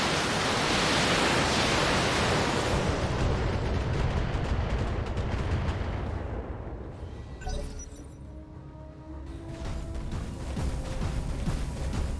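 Heavy weapons fire pouring onto a Catapult mech in the BattleTech video game, a loud, dense roaring barrage of blasts and impacts that gradually thins into rumbling and scattered crackles.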